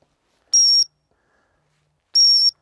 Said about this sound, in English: When you're ready, blow your sit whistle.